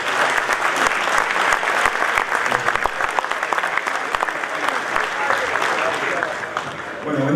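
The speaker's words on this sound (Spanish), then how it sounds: "Recibimos con un aplauso al señor Leonardo de Benedictis." Loud, dense audience applause at an agricultural young producers' congress welcoming a speaker to the stage, sustained clapping from many hands with some crowd noise, tapering near the end.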